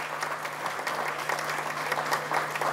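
An academic health-promotion gathering applauds the nursing staff, a steady, moderately distant round of crowd clapping with a low electrical hum underneath and no talk.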